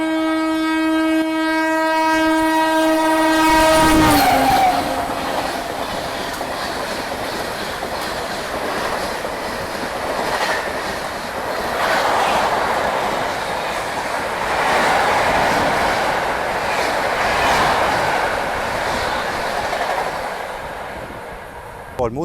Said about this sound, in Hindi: चलिए, डिब्रूगढ़ राजधानी जो है वो आ रही है।